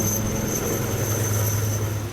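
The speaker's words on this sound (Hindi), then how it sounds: "ये सेना का अपाचे हेलीकॉप्टर है, जिसके जरिए घायल पुलिसकर्मियों को इलाज के लिए भेजा गया।" An Army Apache helicopter airlifts injured police officers during a security operation in Kathua, Jammu and Kashmir, its loud, steady engine and rotor drone filling the short stretch with no speech.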